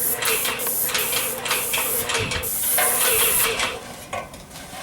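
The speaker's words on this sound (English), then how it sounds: "It's a quality sprayer." Paint sprayer spraying a ceramic insulation coating onto house siding, a steady broad hissing spray that runs continuously for the whole stretch at close range with only slight dips.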